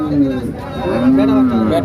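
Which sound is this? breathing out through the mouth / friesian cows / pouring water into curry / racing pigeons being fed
friesian cows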